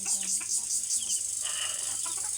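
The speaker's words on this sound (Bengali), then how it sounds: "এগুলো হচ্ছে আমাদের ফার্মি মুরগি" Farm chickens clucking close by, a steady run of short, repeated calls from several birds in a backyard flock, with no one speaking.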